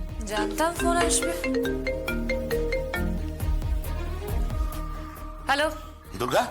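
A phone ringtone plays as a bright repeating melody of short tones, moderately loud, with a person speaking over parts of it and a final rising chime near the end.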